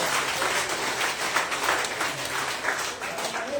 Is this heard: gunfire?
no